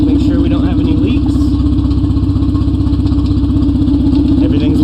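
A K-swapped Mazda B2300 pickup runs with a loud, partly unfixed exhaust, giving a close, steady low rumble with a rapid pulsing beat that carries on without a break, and someone talks over it.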